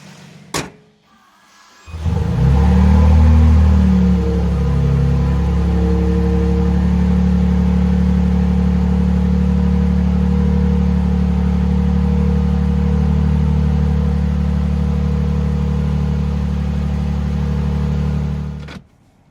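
A 2026 Toyota Sequoia TRD Pro hybrid SUV pulls away after a door thunk, its engine settling into a steady, loud low drone with road rumble that holds evenly for about sixteen seconds before cutting off.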